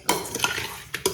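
Biryani marinade being stirred with oil in a pot, a few quick scraping and clinking strokes of a spoon against metal, close and distinct, with a light wet sizzle underneath and no talking.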